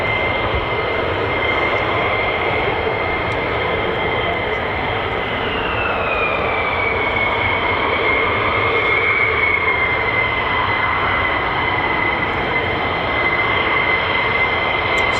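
Loud, sustained roar of F-15 fighter jets of the 492nd Fighter Squadron at RAF Lakenheath, a steady broadband engine rumble with a high whine that shifts in pitch as the aircraft passes, no talk.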